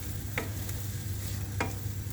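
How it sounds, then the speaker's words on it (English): Onions cooking in a frying pan give off a soft, steady sizzle with a low hum beneath and a couple of light clicks, heard alone without any voices. "I kind of want the onions to cook a bit more"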